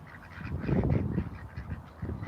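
Ducks kept with chickens call close by in a run of nasal honking quacks, several overlapping birds rising in a loud cluster midway and then continuing more softly.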